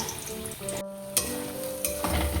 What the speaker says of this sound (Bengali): এই দেখো প্রথমে আলুগুলো ভাজছি